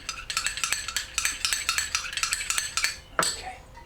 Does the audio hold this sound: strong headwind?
no